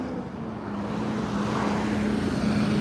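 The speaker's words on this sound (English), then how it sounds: "It's pretty, a lot of traffic, a lot of cars, a lot of noise." Busy congested city road traffic, a dense continuous rumble of many engines with a steady drone and no single vehicle standing out, moderately loud and without talk.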